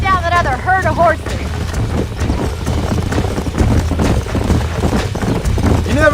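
Horse hooves gallop in a steady clip-clop rhythm in the Red Dead Redemption video game, close and loud, with a brief voice at the start.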